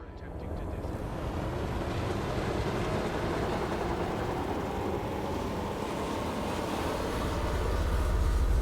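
Eagle spacecraft engines in a video game, a steady broad roaring rumble that holds at a constant level throughout and swells slightly toward the end, with no talk over it.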